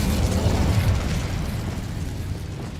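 Incendio fire spell cast in Hogwarts Legacy, a loud rumbling burst of flame that decays over about three seconds, heard alone.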